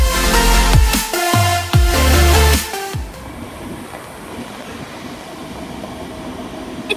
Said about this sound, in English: It's a TfL Rail train